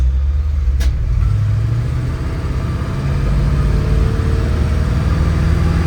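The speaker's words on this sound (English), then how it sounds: "But this truck does like to get up and go." A pickup truck with an aggressive-shifting transmission drives and pulls hard, its engine a steady loud rumble with road noise that swells as it accelerates, close and unbroken with no talking.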